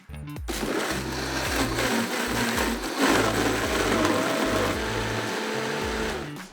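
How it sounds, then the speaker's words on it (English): A kitchen blender whirs loudly, pureeing toasted spices, onions, garlic, brown sugar and coconut vinegar into a paste for pork vindaloo, its motor pitch shifting in steps as the load churns, steady and close with no talk. "Now I'm going to grab the blender."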